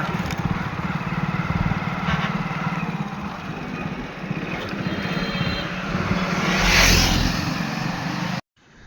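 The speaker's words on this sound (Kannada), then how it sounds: "ಗಾಡಿ ಎತ್ಕೊಂಡು ಹೊರಟಿದ್ದೀನಿ ಈಗ" A motor vehicle being ridden toward a mining area gives a loud, steady, close engine drone that swells briefly near the end, then cuts off abruptly.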